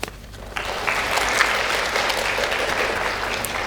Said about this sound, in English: I would like to invite you all to give a round of applause for our teachers